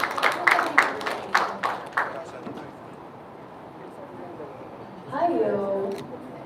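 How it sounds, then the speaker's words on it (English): Scattered claps from an audience at a Mister and Miss Supranational Philippines send-off event, sparse and fairly close for about two seconds, then dying away before a voice begins. "Let's give him another round of applause"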